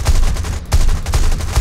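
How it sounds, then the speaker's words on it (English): Rapid bursts of 37mm anti-aircraft cannon fire in the War Thunder video game, loud, close booming shots repeating at a steady rhythm with no talk. "So you can see I'm getting a number of shots."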